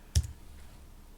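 A single key press on a computer keyboard gives one sharp close click, followed by quiet room noise.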